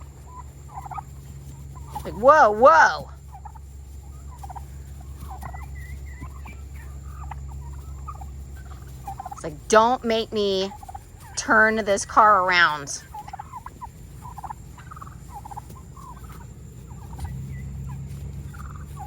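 Turkeys gobble in a few loud bursts, one early and a cluster later, with a person talking in between over a steady low hum.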